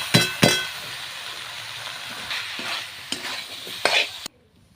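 Meat scraps stir-fried in a pan with tomatoes and salt, sizzling hard with several sharp clanks and scrapes of a spatula, then cutting off abruptly into silence.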